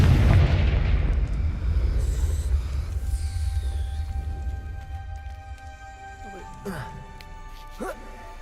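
Confringo spell explosion in Hogwarts Legacy: a loud deep boom at the start decaying into a long rumbling tail, followed by faint game sounds and a brief voice.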